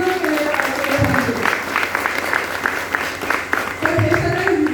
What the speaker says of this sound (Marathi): आपल्या सगळ्या शिष्यांचं सुद्धा टाळ्या वाजवून अभिनंदन केलं पाहिजे.